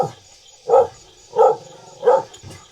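Near, loud barks from a guard dog at an isolated rural house, three evenly spaced woofs about two-thirds of a second apart, with a softer yelp at the start and end.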